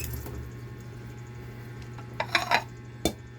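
A frying pan, a kawali set out for cooking tilapia, is handled with a short run of metallic clanks and scrapes near the end, then one sharp knock, over a quiet background hum.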